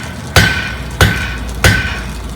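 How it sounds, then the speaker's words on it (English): A hammer strikes cherry-red hot metal three times at an even pace while forging and drawing out the steel, each blow a sharp, loud ringing clang. "I'm actually going to hammer it so it's a little bit flat"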